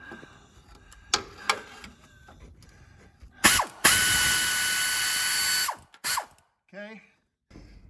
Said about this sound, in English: Now I got the air ratchet